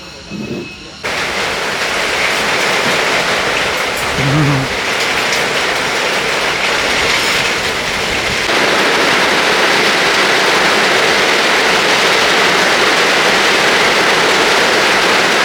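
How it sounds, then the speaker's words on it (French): Very heavy tropical rain pouring down during the rainy season near rice-field terraces at a restaurant in Sidemen, Bali, a dense, steady roar that lasts the whole clip after a brief quieter start. "il s'est mis à pleuvoir vraiment très fort vu que c'est la saison des pluies ici"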